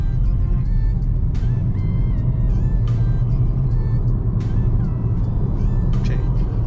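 A Toyota Corolla hatchback engine pulls under acceleration in sport mode, a steady loud low rumble heard from inside the car with a few faint clicks and chimes over it.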